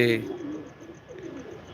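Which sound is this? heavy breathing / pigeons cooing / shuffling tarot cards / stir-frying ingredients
pigeons cooing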